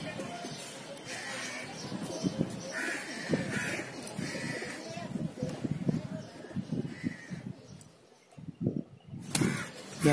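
Pigeons at a loft coo in soft, repeated low calls, with people talking in between and over the birds.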